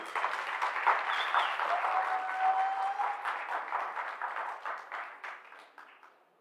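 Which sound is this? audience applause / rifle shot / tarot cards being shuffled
audience applause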